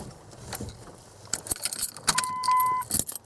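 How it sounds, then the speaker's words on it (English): Keys jangle as the key is pulled from the ignition of a 1998 Dodge Ram 1500 pickup, with scattered metallic clinks and rattles close by and a steady electronic chime sounding briefly partway through. "Now make sure it'll go in the park and the key will come out."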